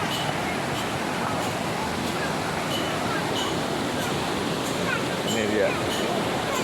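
Curug Cihanjawar waterfall in Garut roars as a steady, broad rush of falling water, with a person speaking briefly over it.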